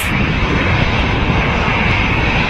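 Aircraft engines run with a steady, loud roar as a plane holds short of the runway at Manchester Airport, a continuous close drone with no talk over it.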